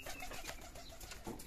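Pigeons in a home flock sit near scattered rice and give a few soft, low cooing calls close by, faint and brief, with no talk over them.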